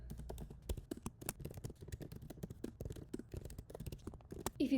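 Fingers type on a computer keyboard in a dense, quick run of soft clicks and key thuds, close and fairly quiet, with a louder keystroke near the end.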